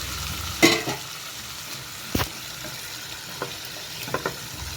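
Capsicum and tomato curry gets stirred in a pan: a low simmering sizzle broken by a few sharp spoon clanks and scrapes, close by, without speech.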